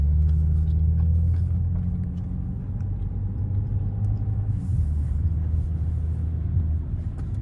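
A 2011 Audi S4 B8 fitted with an Injen air intake driving on the road, its engine a steady low rumble and drone with tire noise, holding a fairly even tone throughout.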